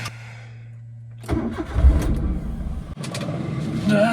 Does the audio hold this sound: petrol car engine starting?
yes